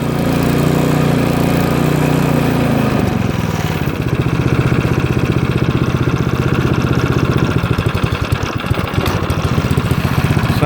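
A Craftsman snowblower engine idles steadily after start-up, close and loud, with a constant rough mechanical drone and a faint shift in its pitch partway through.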